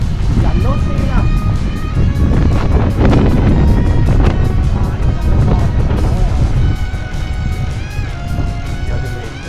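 Strong wind roars against the microphone while cycling near Mount Aso in Kumamoto, a loud, continuous buffeting rush that fills the whole stretch without easing.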